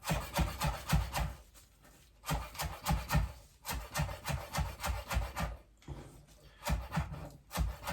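A knife chops fresh coriander finely on a board in quick rhythmic runs of close, crisp taps, broken by brief pauses between bursts.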